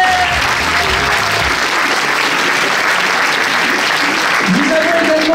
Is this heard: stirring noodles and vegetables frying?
no